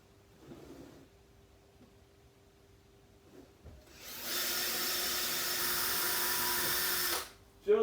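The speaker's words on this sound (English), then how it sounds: "Drill straight through." Power drill boring through a 30mm kitchen worktop, a loud steady whine of about three seconds that cuts off sharply, preceded by quieter handling knocks and faint talk.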